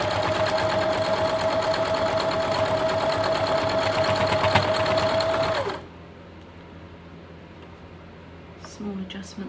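A sewing machine stitches a quilt block with a loud, continuous whirring run for several seconds. It then stops, leaving quiet room tone and a faint rustle of fabric handling.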